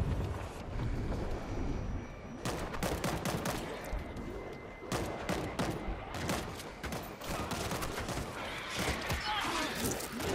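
Rapid shotgun and mixed gunfire blasts in the World War Z zombie shooter game, dense overlapping shots filling the clip against a constant roar, with brief speech among them.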